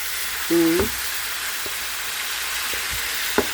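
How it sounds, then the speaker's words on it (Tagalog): Pork belly sautéing in its own rendered fat for adobo, a steady broadband sizzle with a brief tonal squeak and a few faint utensil taps, no speech. "kailangan igigisa muna siya sa sarili niya na mantika yan oh."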